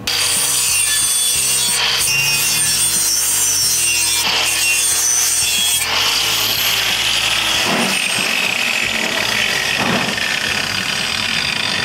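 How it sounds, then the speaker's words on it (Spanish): A 60-grit flap disc grinds down a weld on a car bumper, a loud continuous abrasive whine with the pitch of the grinder motor shifting as it bears down and eases off, heard up close and alone. "vamos a pasar con un flap grano 60, vamos a empezar a pasar la parte gruesa de la soldadura"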